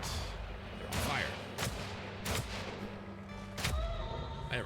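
Enemies firing guns in the Weird West video game, several sharp separate shots spaced across a few seconds over a low burning rumble, fairly faint and with a voice briefly present.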